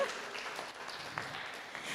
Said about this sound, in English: massive round of applause for Christina and Carleen